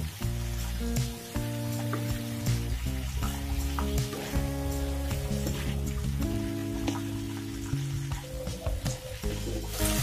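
Ridge gourd sautés in a pan after salt is added, giving a steady sizzle with occasional stirring scrapes under a layer of tonal background music, and no speech.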